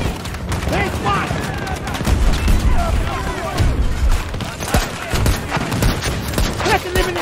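XM370A airburst launcher in Battlefield 2042 fires repeatedly amid a chaotic firefight, sharp cracks and booms coming in quick irregular succession over constant combat noise, with in-game voices shouting throughout.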